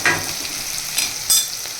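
Onions frying in hot oil until reddened, a close constant sizzle broken by a few sharp crackles and spatula scrapes against the pan, with no voices.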